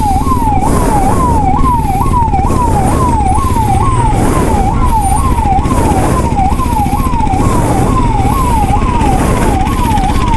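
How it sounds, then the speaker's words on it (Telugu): An ambulance siren in heavy traffic on a long motorcycle ride, heard as a loud, close, continuous rising-and-falling wail that repeats rhythmically over a rumble of engines. "అంబులెన్స్ని అయితే ఏం క్రాస్ చేయను పోనీ"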